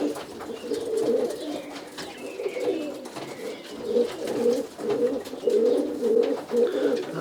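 Roller pigeons coo steadily in a breeding loft, a layered, throaty murmur of several birds that rises and falls continuously at close range with no talk.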